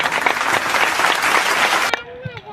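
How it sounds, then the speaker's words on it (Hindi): An audience at a Holi get-together claps steadily to welcome a guest, dense and loud for about two seconds before stopping abruptly, followed by a few faint sounds. "ताली बजा के स्वागत करेंगे।"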